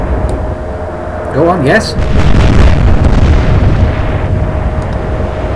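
Battleship main guns fire and shells burst in the naval war game Atlantic Fleet, Royal Navy against Kriegsmarine: a heavy, loud boom swells into a long rolling rumble while a voice talks over it.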